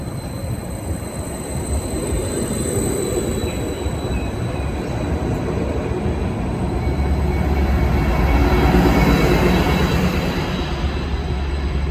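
A train on the Wherry Lines toward Lowestoft rumbles into a station, its steady rolling roar growing a little louder near the end, with faint squeal and hum above and no talking.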